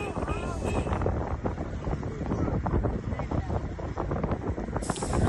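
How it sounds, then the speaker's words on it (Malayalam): Strong wind in the hills around Munnar roars and buffets the microphone in continuous loud gusts, heard outdoors without clear speech. "തണുപ്പ് മാത്രമല്ല, നല്ല കാറ്റും ഉണ്ടായിരുന്നു."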